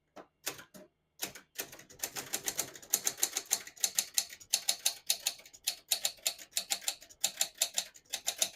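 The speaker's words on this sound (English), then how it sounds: "Beautiful typing machine." Rapid keystrokes on a 1970s Royal Express manual portable typewriter clatter in uneven bursts, close and crisp, with brief pauses and occasional heavier strikes.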